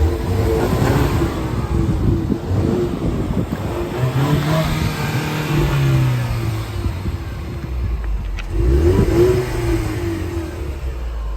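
Rented Ford Mustang muscle car engine blipped in Las Vegas, with a loud rev swelling and falling around the middle, then another burst near the end over rumbling idle.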